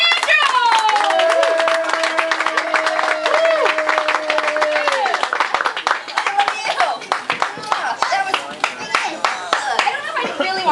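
An audience claps and applauds for a performer coming to the stage, with dense, steady clapping that fills the room, a held musical tone over the first half and scattered voices mixed in.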